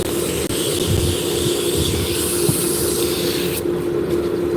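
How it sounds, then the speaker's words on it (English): Medium-grit sandpaper hisses against a wooden drop spindle turning on a machine, a loud, steady rushing sound over a low motor hum, briefly easing off near the end. "So we're starting with a medium grit sandpaper."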